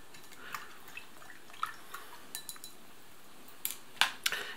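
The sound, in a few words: mixing ration drink powder with cold water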